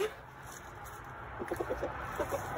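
Chickens near their coop let out several short, soft clucks in the second half over a steady background hiss, fairly close but quiet.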